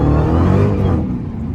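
Dodge Hellcat engine pulling hard in second gear on a cold winter drive, a loud, close, deep growl that holds strong and then eases off over a second and a half.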